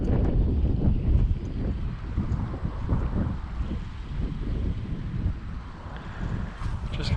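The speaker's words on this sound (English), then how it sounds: "a bit windy" Wind gusts at a carp fishing lake in early spring, buffeting the microphone with steady, loud low rumbling and rushing that fills the whole stretch.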